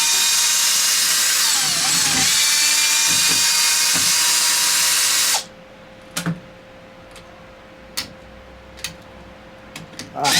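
Power tool buzzing loudly for about five seconds while removing cover bolts on a Traxxas X-Maxx RC truck, then stopping, followed by a few sharp clicks and small taps in a quiet room.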